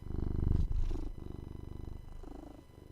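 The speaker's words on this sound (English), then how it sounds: "Obnoxious little needy cat." A pet cat purrs loudly and close up, a rough rhythmic rumble that swells at the start and then settles into softer, steady cycles.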